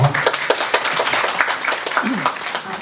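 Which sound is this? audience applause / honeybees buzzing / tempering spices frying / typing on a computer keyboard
audience applause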